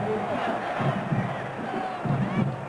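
A large football stadium crowd at a 2000 Wisconsin Badgers vs Minnesota Gophers game roars and cheers in a steady, loud, sustained wash of voices.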